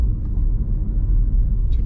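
A 2021 BMW M3 Competition engine drones steadily from inside the cabin, a low, continuous rumble at a constant level without sharp revs.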